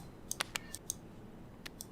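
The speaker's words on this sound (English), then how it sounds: "This shuffles the cards." A handful of soft, crisp clicks in a quick irregular burst as cards shuffle in Tabletop Simulator, then two more after a pause, quiet against faint background hiss.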